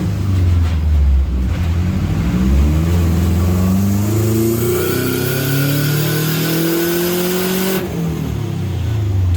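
A Subaru STI with an EWG billet VF48 turbo makes a dyno pull. The engine note climbs steadily in pitch under load, loud and close, then drops sharply at the end of the run.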